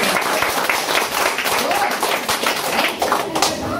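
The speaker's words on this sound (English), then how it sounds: "Let's clap our hands." Audience at a product event in Dubai clapping together: dense, steady applause filling the whole stretch, with voices mixed into the crowd noise.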